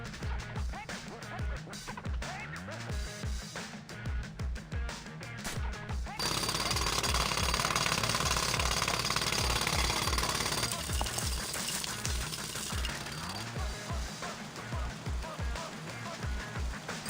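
A jackhammer pounds in TMNT: Mutants Unleashed, rapid loud rhythmic hammering that switches partway into a dense, steady roaring blast, close and continuous, with game voices faintly mixed in.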